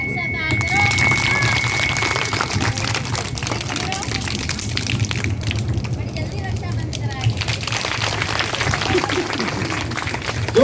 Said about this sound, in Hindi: मैं 5 करूंगा तो आपको 5 उंगलियों से ताली बजानी है